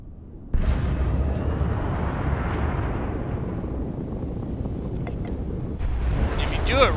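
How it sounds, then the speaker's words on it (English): A spaceship engine in the Starfield video game kicks back on with a sudden deep roaring rumble that holds steady and loud, with faint electronic chirps near the end. "The engine's back."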